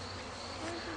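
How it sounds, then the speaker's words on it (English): A Carniolan queen bee with attendant worker bees moving inside a queen cage, a close, steady, low insect buzz that stays constant. "So here's the queen bee That's your queen. running around in her cage."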